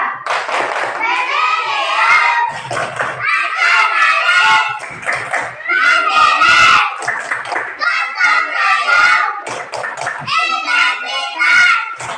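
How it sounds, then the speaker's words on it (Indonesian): A class of children performs the rhythmic PPK clapping chant, loud young voices chanting in bursts with sharp hand claps keeping the beat, close and lively. "Sebelum mulai belajar, kita tepuk PPK dulu."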